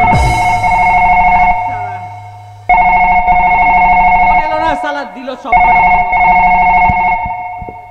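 A phone rings loudly in a jatra stage play, with repeated electronic tones in bursts broken by short gaps, while someone speaks briefly between the rings.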